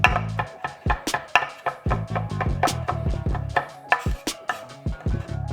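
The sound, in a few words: chopping garlic on a cutting board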